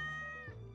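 A single short cat meow from Stardew Valley, clear and close, with a falling tone that fades in under a second.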